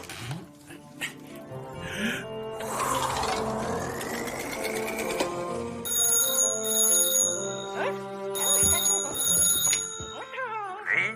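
A telephone rings in two separate bursts of bright, steady electronic tone, set against continuous background music.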